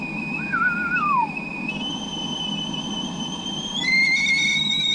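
A kettle whistles on a gas stove at a cabin as its water boils, a steady shrill tone that rises and shifts pitch in steps, growing louder near the end, with a brief falling whistle early on.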